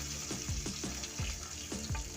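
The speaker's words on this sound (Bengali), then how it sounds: "আমি কড়াইতে তেল গরম করে এক এক করে মাছগুলো দিয়ে দিচ্ছি" Fish pieces fry one by one in hot oil in a kadai, a dense crackling sizzle with several sharp bursts as pieces are added or shifted, fairly quiet overall.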